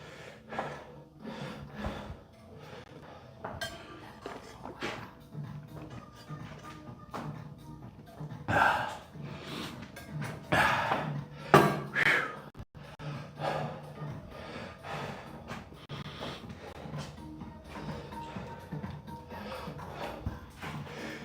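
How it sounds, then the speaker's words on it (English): Heavy, labored breathing after a weight-training set, with gasping inhales and puffing exhales, close by, along with occasional taps and shuffling movement. "You guys can hear me breathing loud, right?"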